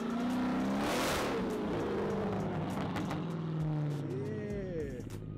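A car engine revving at a street pop-up car meet in Long Branch, New Jersey, a loud roaring rev that climbs and falls with whining tones, with people talking over it nearby.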